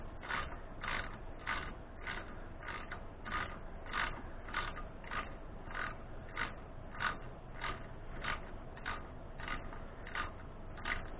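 A socket wrench with a deep well socket tightens a nut on an 80cc bike engine, giving a steady run of evenly spaced ratcheting clicks, close and fairly quiet, with no talk.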